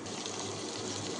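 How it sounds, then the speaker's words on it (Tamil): Chopped tomatoes drop into a pan of tempered onions, setting off a brief, steady, hissing sizzle close by. "இப்போது தக்காளியை சேர்த்துக்குவோம்."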